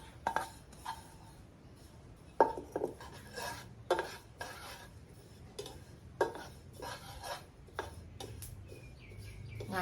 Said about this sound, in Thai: ต้องคนบ่อย ๆ นะคะ คนตลอดเลย เพราะว่าเดี๋ยวมันจะไหม้